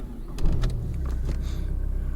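A Peugeot 607 car starts up: a brief whir and mechanical clatter, then the engine catches and settles into a steady, close low idle.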